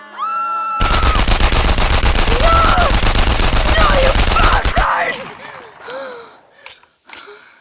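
A sustained burst of rapid machine-gun fire rattles loud and close for about four seconds in an Enemy Front video game cutscene, then fades into scattered voices and shouting.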